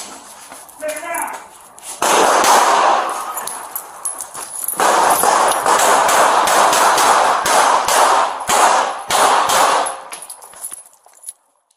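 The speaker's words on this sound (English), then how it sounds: "Police returned fire." Gunfire in a police shootout with a suspect shooting from a window, loud rapid cracks in dense sustained volleys broken by short pauses, with shouting voices mixed in, close to the bodycam.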